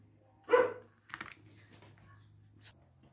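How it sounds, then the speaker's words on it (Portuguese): A single dog bark rings out nearby, followed by soft clicking and rustling, with a low steady hum underneath. "fui mandar a cadela calar a boca."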